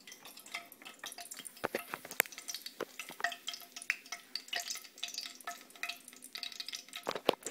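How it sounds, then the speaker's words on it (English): Oil crackles and sizzles steadily with irregular pops and spatters, like food deep frying in a pan, with occasional stirring clinks. "I'm deep frying Andre Ethier"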